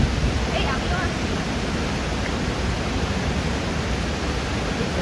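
Blangsinga Waterfall in Bali roaring as a dense, steady broadband rush, loud and continuous with no breaks, close by.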